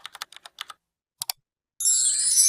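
A computer keyboard typing sound effect: a quick run of light, crisp key clicks, a pause and two more taps, then a bright sustained chime rings out, all close and clean with no voices.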